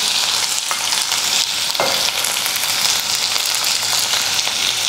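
Onion, ginger and green chilli sautéing in about one and a half tablespoons of oil with mustard seeds and curry leaves for Kerala egg curry, a steady loud sizzle and crackle with occasional stirring scrapes, close and continuous throughout.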